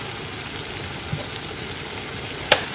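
Sauce for cauliflower manchurian simmers and sizzles softly in a pan, a steady low frying hiss with a single sharp clink of a utensil near the end.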